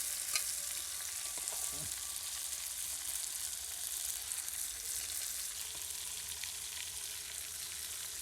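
Snakehead fish pieces shallow-fry in oil, producing a continuous, even, close hiss and crackle of sizzling with no talk.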